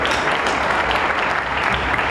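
Audience at a Diwali gala in New York applauding, a dense, loud and steady clatter of many hands clapping throughout.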